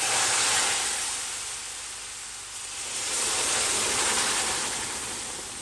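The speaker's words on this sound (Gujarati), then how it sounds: "હવે આપણે આમાં પાણી એડ કરશું." Water poured into wheat flour roasting in ghee for sheera sets off a loud, broad steamy hiss and sizzle that swells, dips briefly, then surges again.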